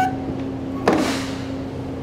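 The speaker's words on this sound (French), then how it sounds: "Mais je peux ouvrir la porte." A ramp agent opens an aircraft door on the tarmac: one sharp clunk followed by a brief rushing sweep that fades, close by over a steady low hum.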